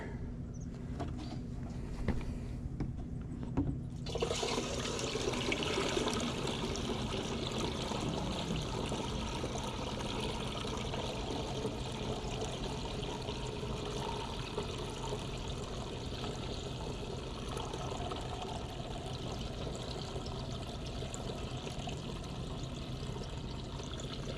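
Liquid lawn mix poured through a strainer into a jug, heard as a steady, close splashing pour that starts abruptly after a few quiet seconds and runs without a break.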